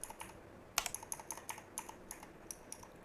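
Keyboard typing with a MechaKeys click sound-pack, a quick run of crisp, fairly faint clicks with one sharper keystroke early on, steady and close with no talk.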